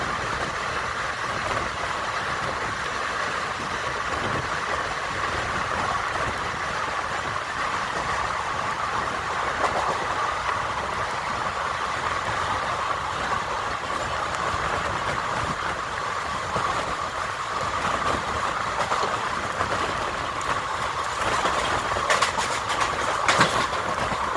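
Steady rumbling roar of the Somnath Ahmedabad Intercity Express running at 80 to 90 km/h near Chandlodiya, heard from inside, with continuous rail noise, faint clacking and brief sharper rattles toward the end, without talk.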